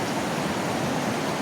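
Strong river water rushes in Tarlac as a steady, dense roar, loud and unbroken, with no voices over it.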